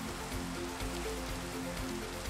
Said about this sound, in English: Got to rain at least once per stream,